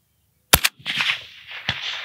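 A PSL 54 or SVD type rifle fires outdoors at a 300 yard target, giving one sharp, loud crack with a quick echo, followed by a rolling report and a faint second impact-like thud.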